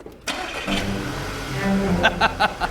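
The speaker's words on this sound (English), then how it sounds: "But now we also have to turn the car on." A car engine starting after a sharp click, cranking into a rough running idle that grows louder, with a few rhythmic revs toward the end, close by.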